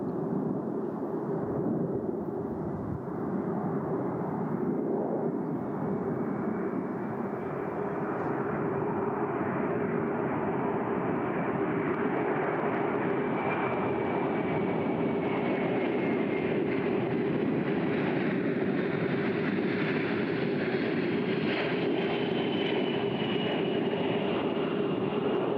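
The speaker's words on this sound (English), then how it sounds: "The aircraft is maneuvering to demonstrate a full flap approach in just a few moments" A Boeing C-17 military transport jet flies past at an air show, its engines a loud, continuous roar with a rising whine that holds steady throughout.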